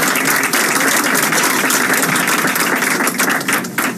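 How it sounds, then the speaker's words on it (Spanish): Audience applause at a lecture event, a dense sustained clatter of many clapping hands at close range, steady for several seconds before thinning slightly at the end. "Un aplauso, por favor."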